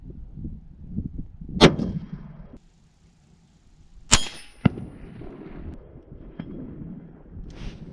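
A Remington 700 PCR rifle in 6.5 Creedmoor fires on an outdoor range at a steel target 500 meters away: sharp single shots, each followed after a short gap by a faint metallic ping from the distant plate, with quiet wind between.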